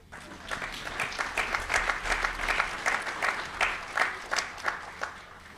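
An indoor audience at a city address claps together, a steady patter of many hands that swells and holds for several seconds at moderate distance, with no talking over it.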